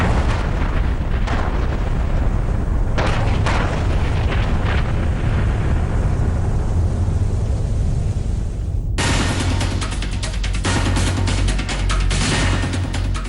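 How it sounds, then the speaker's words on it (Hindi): A loud car bomb blast as a vehicle reaches a building: a sustained rumbling roar of explosion, then a sharp fresh burst of crackling, booming debris partway through. "और फिर गाड़ी के इमारत में पहुंचते ही जोरदार धमाका।"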